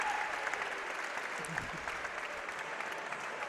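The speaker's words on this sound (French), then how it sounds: "Un tonnerre d'applaudissements, s'il vous plaît." Spectators applaud steadily after a women's elite savate final, a dense continuous round of clapping with voices murmuring underneath.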